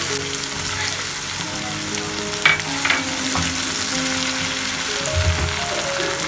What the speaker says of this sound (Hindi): अब इसमें डालेंगे अदरक लहसुन का पेस्ट, इसको थोड़ा सा भूनने के बाद इसमें डालेंगे टमाटर